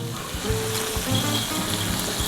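Shrimp stir-fried with roasted chili paste, milk and basil leaves sizzles in a pan on an indoor stove. The hiss is loud and constant, with soft low thumps from stirring underneath.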